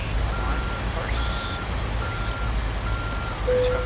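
In American Truck Simulator, a truck backs up to hook onto large tanks, its reversing alarm beeping in regular pulses over a low idling engine rumble, with a voice talking over it.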